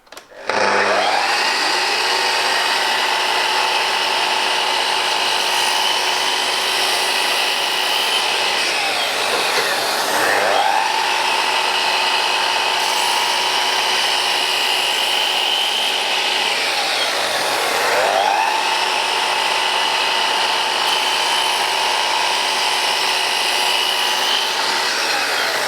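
A power saw fitted to a Festool dust extractor makes a series of long, steady cuts through 18mm pine, each pass a loud continuous whine with brief dips between cuts, heard alone with no talking.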